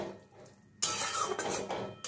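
Fried potato and kakrol pieces tipped into masala in a pan for kakrol aloo tarkari, a sudden clattering scrape with sizzling that continues fairly loud after a quiet start.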